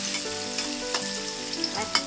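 Cut tofu frying in hot oil in a pan, a steady close sizzle with faint crackles and an occasional stir or clink of a utensil, no voices.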